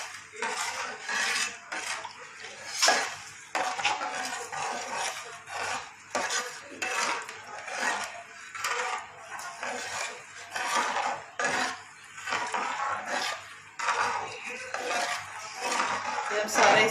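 A spoon stirs dhoda halwa mixture into cold milk in a metal pot, making steady scraping and rasping strokes against the pot with short pauses between them.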